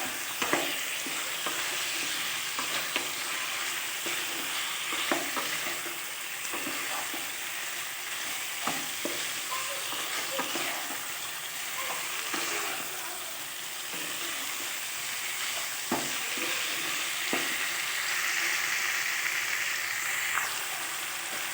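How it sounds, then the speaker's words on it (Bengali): Chicken pieces frying with spices in a pan for a restaurant-style desi chicken curry, a continuous close sizzle broken by repeated scraping and stirring strokes of a spoon, with no talk. "আর ভালো করে মাংসটা কষিয়ে নেব মশলার সঙ্গে।"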